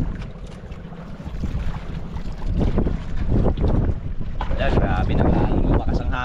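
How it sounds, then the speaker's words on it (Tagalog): Strong wind buffets a fishing boat at sea, a loud steady roar with microphone gusts that grows stronger toward the end, with a voice briefly speaking over it. "Lalong lumakas ang hangin"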